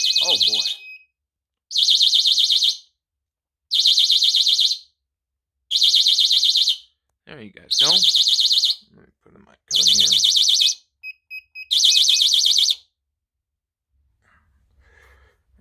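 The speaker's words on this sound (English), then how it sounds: "That is the fire alarm on a radionic system." Radionics fire alarm system sounding a loud, piercing electronic tone in seven regular bursts of about a second each, with short gaps between them, while a person briefly talks and breathes between the bursts.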